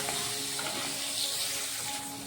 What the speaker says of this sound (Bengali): দেব 1 চামচ নুন, 1/2 চামচ হলুদ গুঁড়ো দিয়ে আলুটা ভালো করে ভেজে নেব